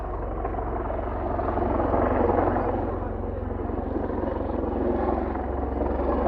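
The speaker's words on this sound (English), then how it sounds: "Helicopter." A helicopter flying low overhead near fishing water, a steady loud rotor drone with a deep low-end throb that swells slightly midway and holds throughout.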